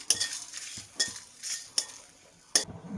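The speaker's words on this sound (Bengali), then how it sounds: "এটা আমি ভেজে দেবো।" Five-spice, black pepper and a bay leaf fry in a pan in a home kitchen, with soft sizzling under four or five sharp spoon strokes against the pan, close and fairly quiet, no talking.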